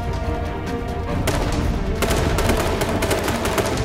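Rapid gunfire from the online battle royale game H1Z1, with bursts of shots crackling loud and close over a steady din, the firing growing denser and sustained toward the end.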